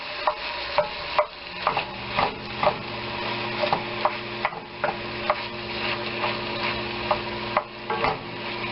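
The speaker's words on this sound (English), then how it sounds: "break off our ground beef." Ground beef being broken up in a hot pan with a utensil, making steady rhythmic scraping and tapping strokes about every half second over a continuous sizzle, close and fairly loud.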